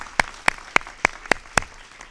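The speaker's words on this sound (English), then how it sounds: "maybe a round of applause for our panelists" Six separate hand claps, evenly spaced about a quarter second apart, at a panel discussion, fairly close with no talking over them. A scattered, sparse round of applause.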